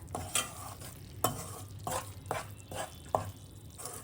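Amaranth flour roasting in ghee for a fasting-day sheera, stirred with repeated scraping strokes against the pan at an uneven rhythm over a soft sizzle, fairly quiet and close, without talk.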